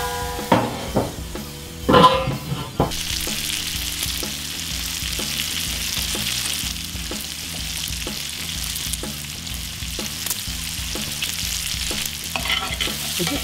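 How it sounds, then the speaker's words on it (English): Bacon frying in a pan on a Cuisinart 360 griddle, sizzling steadily and close, with a few clattering utensil knocks at the start, then a continuous hiss under regular light scraping; no voices. "As you can see, the bacon's come along quite nicely."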